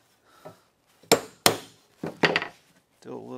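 A wood chisel chamfers the shoulder of a tenon for a housed mortise and tenon joint, giving a few sharp, close cutting strikes and scrapes separated by pauses, with a faint breath or voice at the end.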